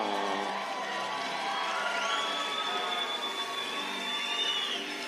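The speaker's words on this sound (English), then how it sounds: "Listen to that crowd." Crowd at a boxing event cheering during a fighter's ring walk, a loud sustained roar of many voices with rising shouts and whistles, continuous throughout.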